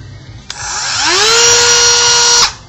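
A Dremel rotary tool with a polisher adapter spins up with a rising high whine, holds a loud steady pitch for about two seconds, then cuts off, heard alone and up close.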